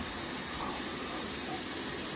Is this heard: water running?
yes